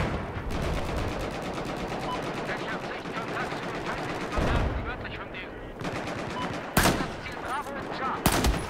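Rapid bursts of Battlefield 4 gunfire crackle almost continuously during a Rush match on Siege of Shanghai, with a few louder, sharper shots standing out near the end.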